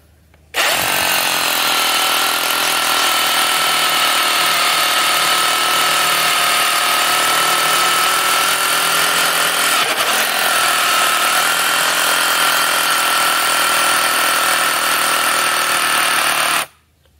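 A loud, continuous cordless rotary hammer drilling into a paving block, steady and harsh for about sixteen seconds with a sudden start and stop, no talking.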